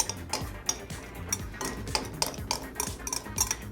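Pie crust ingredients, butter and flour with vodka, stirred together in a bowl by hand, giving a steady run of scraping, clinking utensil strokes with no talking.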